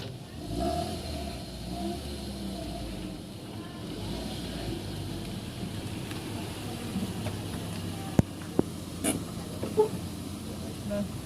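Toyota 4AFE engine in a Corolla GLI, tested after a misfire repair and valve seal replacement: a steady mid-pitched idle with a few light revs, heard close, with brief clicks and a faint voice toward the end.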